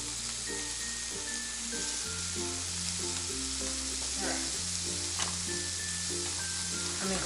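Pork belly frying in a pan as its fat renders out, a steady close crackling sizzle with occasional spatters, heard under background music.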